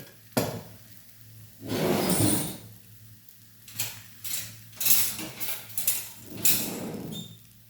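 Sweet potato holige fries in oil on a pan, with bursts of sizzling and spattering between quieter gaps, mixed with scraping and clinks of a utensil turning the flatbread.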